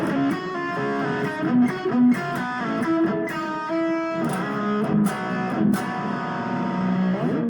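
Distorted electric guitar plays a riff, with sustained chords and single-note lines in a steady rock rhythm, loud and close, with no talking.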